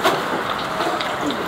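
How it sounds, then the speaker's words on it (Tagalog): Heavy rain pouring down during a typhoon, a steady broadband hiss close by with no break through the short stretch. "Yan na, ang ulan."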